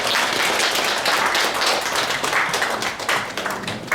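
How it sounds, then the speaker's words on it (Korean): A seated Buddhist dharma assembly audience claps to welcome a choir, a loud, dense burst of hand clapping that continues unbroken without any talk. "큰 박수로 환영해 주시기 바랍니다."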